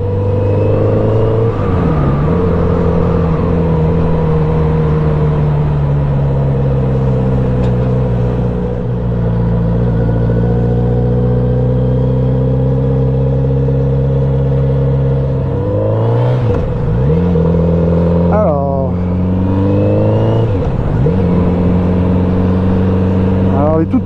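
A Kawasaki Z900RS motorcycle engine idles and warms up close by, a loud, steady rumble with a few brief blips of revs partway through.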